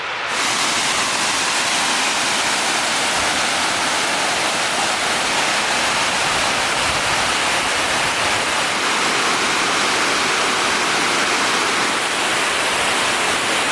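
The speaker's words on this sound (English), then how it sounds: "Much nicer waterfall shape, isn't it, Sash?" Water roars continuously over a dam spillway in England's Peak District, a dense, loud rushing hiss that stays steady throughout with no voices.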